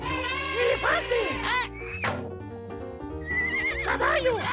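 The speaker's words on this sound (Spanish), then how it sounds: "¡Caballo!" A horse whinnies loudly over a musical backing and bright voices, the neigh rising and falling in a couple of drawn-out bursts.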